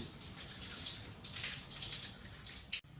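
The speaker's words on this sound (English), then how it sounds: "Let the water drain for about 20 minutes." Water drains steadily from a water dispenser being flushed, making a continuous splashing, hissing flow close by that cuts off abruptly near the end.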